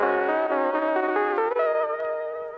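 A guitar played through a lo-fi pedal's reverb preset rings out in sustained chords, each note blooming into a smeared, echoing wash that slowly fades, with no voices present.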